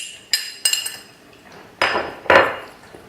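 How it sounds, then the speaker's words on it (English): Dry flour, baking powder, sugar and salt being mixed in a bowl, heard as a few sharp clinks and scrapes of a utensil against the bowl, close and fairly loud, with quiet gaps between strokes. "and then we'll just give it a mix"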